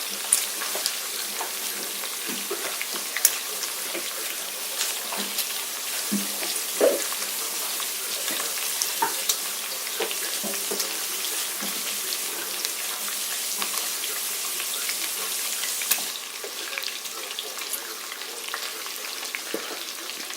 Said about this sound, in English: We're going to take our Brussels sprouts and give them a nice thorough wash.